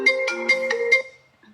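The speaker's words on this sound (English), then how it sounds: "We now know your ringtone." A phone ringtone plays a quick five-note electronic melody, bright and clear at moderate loudness, then stops, leaving a faint short tone and near silence with no talking.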